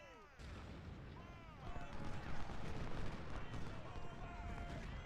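Musket volleys and cannon fire from a Civil War battle in the strategy game Ultimate General: Civil War, a dense rolling clatter of gunfire that swells after the first second and stays loud throughout, with someone talking over it.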